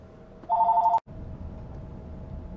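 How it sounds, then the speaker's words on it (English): A telephone rings once during a recording, a short loud electronic ring of about half a second that ends in a sharp click, followed by a low steady background hum with no talking. "That was an important phone call, so I had to take it."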